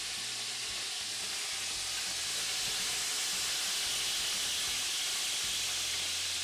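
Sausage frying in a pot gives off a steady, dense sizzle and hiss, close and constant throughout with no pauses.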